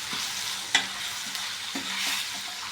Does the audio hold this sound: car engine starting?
no